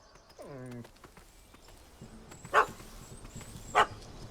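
A puppy barking in The Witcher 3: Wild Hunt, a short yelping whine at the start followed by two sharp, separate barks spaced about a second apart over quiet ambient game sound.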